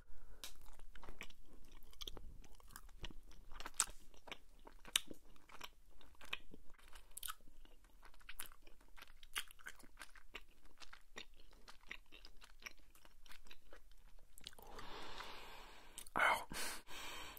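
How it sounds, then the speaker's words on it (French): Close, quiet chewing of orange-flavored American candy with a strong chemical smell, soft wet crunches and bites repeating steadily in an intimate ASMR setting, with a louder burst of mouth sounds near the end. "J'ai l'impression de manger en fait du réglisse à l'orange."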